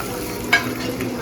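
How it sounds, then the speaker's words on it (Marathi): Chopped vegetables dropped into onions frying in a pan for veg biryani, one quick stirring scrape and a brief sizzle, close and alone. "कांदे, आता जरा भाज्या टाकते"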